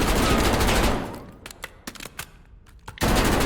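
Sustained hip-fire automatic gunfire in Call of Duty Warzone, loud continuous bursts that break off into scattered separate shots and then resume at full volume.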